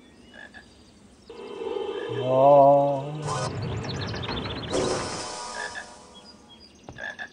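A frog in a Harry Potter video game croaks in a long, rising and warbling call over ambient game sounds, with someone briefly speaking softly at the start.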